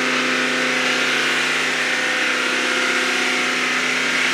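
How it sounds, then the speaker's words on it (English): A Mercedes GT63 AMG engine revved up and held at a steady high speed, a continuous loud mid-pitched drone with stable tonal hum throughout and no talking. "What I now need to do is rev it up to about 3000 RPM and hold it"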